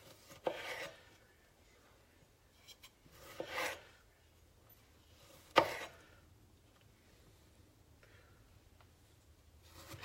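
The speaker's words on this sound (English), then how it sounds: "You always want to make sure you have a sharp knife when you're cutting tomatoes" A sharp knife slices through tomatoes on a board, giving a few soft, scattered cutting strokes and quiet scraping rubs, separated by near silence, close and faint.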